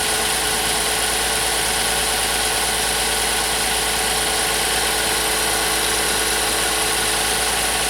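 A 2014-2018 GMC Sierra 4.3L V6 idling steadily after a water pump replacement, a constant loud broadband engine hum with no change in rhythm, heard up close with no talking.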